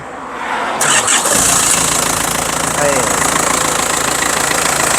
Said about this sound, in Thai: สตาร์ทเครื่องหน่อย เดี๋ยวสตาร์ทฟังเสียงเครื่องยนต์นะครับผม